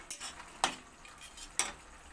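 Boiled potatoes are chopped with a metal spatula in a pan while cooking egg aloo posto. Two sharp scraping knocks land about a second apart, with a softer one before them, over a faint background sizzle.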